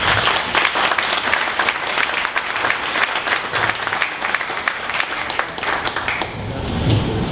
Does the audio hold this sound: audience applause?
yes